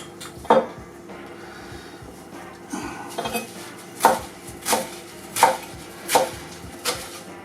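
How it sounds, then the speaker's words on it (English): A knife roughly chopping vegetables on a cutting board, about six sharp, close thuds at uneven intervals with soft scraping and clatter in between, no speech. "I'm just going to roughly chop up."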